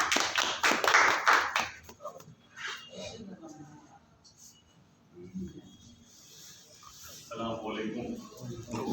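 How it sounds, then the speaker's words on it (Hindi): A brief, loud burst of audience clapping for an arriving guest at an RCM distributors' meeting on Tulsi paints, fading after about two seconds into someone talking over quieter room noise. "आपकी जोरदार तालियां चाहूंगा।"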